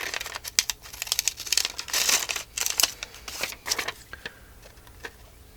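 Pinking scissors cutting through fabric for a grunge craft project, a close series of crisp crunching snips and crinkling rustles in irregular bursts that taper off near the end, with no talk.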